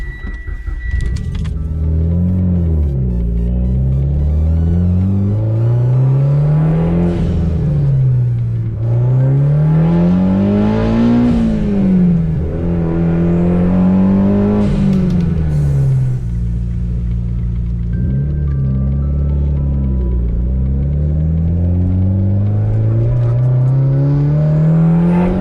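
A Mitsubishi Evo X fitted with a GFB Respons blow-off valve drives hard, its engine rising and falling through repeated gear pulls with whooshing valve releases between, loud and close throughout without speech.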